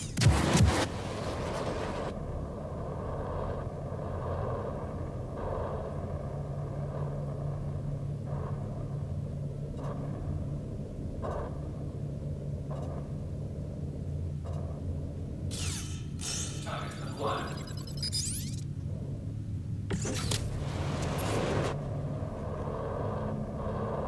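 A Taurus ship fires missiles in the space game Star Citizen, sending several whooshing launches and thuds over a steady low engine rumble, with a bright streaking burst partway through.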